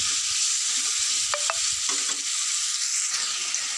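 Chicken pieces rubbed with salt, turmeric and chili sizzle loudly in hot oil as they are stirred for chicken kosha, a constant close frying hiss with a few clinks and scrapes of the spatula.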